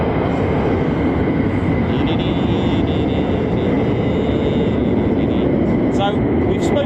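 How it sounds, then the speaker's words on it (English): Two F-35 fighter jets at RAF Lakenheath produce a steady loud roar, with someone talking over the noise throughout. "Let me just get my eyes on these two F-35s that look like they're going into..."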